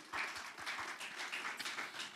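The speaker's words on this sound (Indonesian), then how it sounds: "Tepuk tangan yang meriah" Applause at a Sunday church service in Tuban, a crowd clapping in a fairly even, moderately loud burst with some distinct hand claps standing out.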